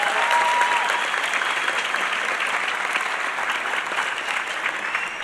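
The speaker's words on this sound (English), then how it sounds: "How about another round of applause for that?" Steady, dense applause from a large audience at a high-school graduation ceremony for John J. Duggan Academy, sustained evenly for several seconds with no voices over it.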